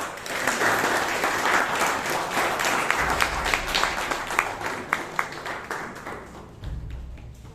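An audience at a Toastmasters meeting in Bangalore applauds after an education session, a dense, steady wash of many clapping hands that thins toward the end into a few scattered claps over a low rumble.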